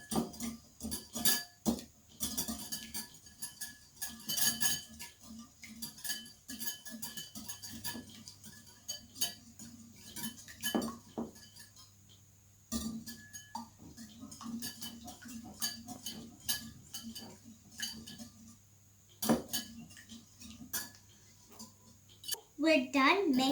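Hard-set eggs mixed in a bowl with cutlery, giving repeated quiet clinks and scrapes at an uneven rhythm, with a person talking over them throughout.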